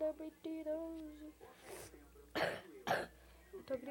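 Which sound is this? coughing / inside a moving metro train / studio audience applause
coughing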